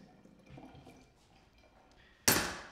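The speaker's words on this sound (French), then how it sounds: "Quand l'eau est quasiment claire et qu'on égoutte pour la dernière fois, il faut bien le faire." Rinsed rice is drained one last time. After quiet handling, a sudden close splash of water pours out and trails off over half a second.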